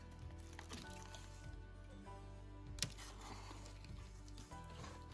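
Pruning shears snip through a plant stem with one sharp, faint click, set against quiet rustling and soft handling noises.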